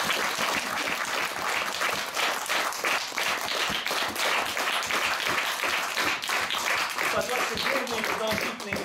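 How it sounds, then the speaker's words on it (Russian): Sustained, loud audience applause fills a hall at a festival gala concert, a thick unbroken wash of many hands clapping with crowd voices mixed in throughout. "Нескончаемые аплодисменты"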